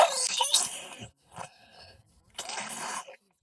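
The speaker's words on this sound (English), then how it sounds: "just listen to how this baby was coughing and tell me it's not alarming" A baby coughs in harsh, rattly bursts: a long wet fit, a short pause with a few weaker coughs, then another heavy burst, close by.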